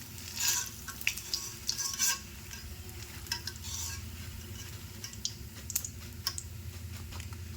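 Papad fries in hot oil with a soft, continuous sizzle, punctuated by light scraping and tapping as the pieces are stirred, fairly quiet and close.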